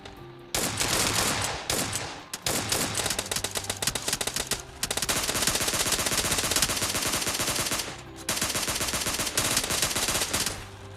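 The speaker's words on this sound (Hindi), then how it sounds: "मैं निकाल लेता हूँ अपनी अपनी SK-12 और इन लोग की लगा देता हूँ।" Rapid bursts of SK-12 automatic gunfire in a shooting video game, loud and dense with brief pauses between volleys, no talk over it.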